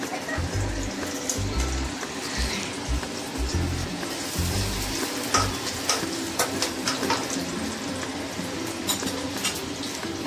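Chicken curry frying in a pan, with fried onions being salted. It gives a steady, dense sizzle and crackle with occasional clinks and scrapes, and no talking.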